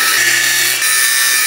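An angle grinder grinds flats onto a round shaft during a house renovation, a loud, harsh, steady hiss of metal grinding with a faint low hum underneath, and no talking.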